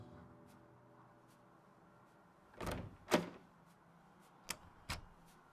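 A locked back storage room door handle in the video game Tex Murphy: Tesla Effect rattles and clunks a few times without opening, sharp and close against a quiet hum.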